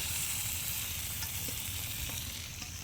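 Food fries in oil in a pan with a continuous sizzle and occasional stirring scrapes, close but fairly soft, with no one speaking.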